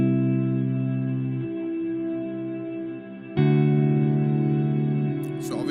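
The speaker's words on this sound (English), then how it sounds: "Next up, there's a reverb. Let's see where we're at now at the cloud setting." Sustained guitar chords wash through a Strymon BigSky reverb pedal on its cloud setting, with very long decay and a high mix, shifting to a new chord partway and swelling into a dense, shimmering tail.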